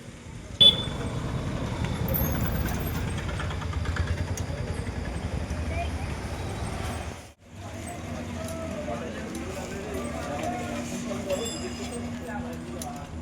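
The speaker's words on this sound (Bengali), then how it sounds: "এটা হচ্ছে বাজারের রাস্তা" Steady traffic rumble along a village road leading to the market, with motorcycles and vehicles passing continuously at moderate distance, a brief dropout midway, and a faint horn toot.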